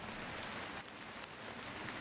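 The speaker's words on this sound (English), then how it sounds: "Then a walk across a bridge in pouring rain to the island of Mainau itself." Pouring rain on a walk across a bridge to the island of Mainau, a dense, steady hiss of falling water with a few nearer drops, continuous and fairly close.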